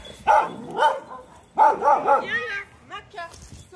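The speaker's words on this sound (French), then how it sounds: "C'est vrai qu'on avait oublié, on avait des chiens." Dogs bark several times in short bursts, fairly close, with people talking over and between the barks at an outdoor spot where a group is settling in for drinks.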